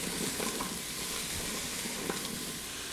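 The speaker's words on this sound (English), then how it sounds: "We'll saute the sweet potatoes alongside the onion." Sweet potatoes and onion sautéing with a little salt in an Instant Pot, a steady close sizzle of frying with faint stirring scrapes running throughout, no voices.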